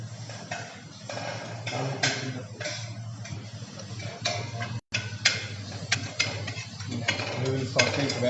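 Food sautés in a pan under repeated stirring, a continuous low sizzle punctuated by sharp, fairly regular spatula clicks and taps against the pan.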